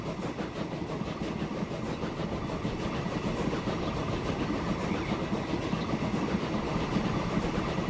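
A train running in the Transport Fever 2 video game, a steady, continuous rumbling engine and rolling drone that holds an even level throughout with no voices.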